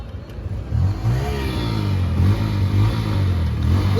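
A motorcycle engine rumbles close by, revving up and settling into a steady throaty idle-to-pull as it gets going, on a cold winter night in Pune.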